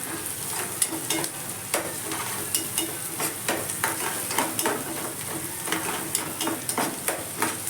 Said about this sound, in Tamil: வெங்காயம் நல்லா பொன்னிறமாக வர வரைக்கும் கொஞ்சம் வதக்கி விடுவோங்க